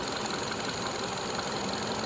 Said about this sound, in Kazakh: Мотор ровно иштеп турат.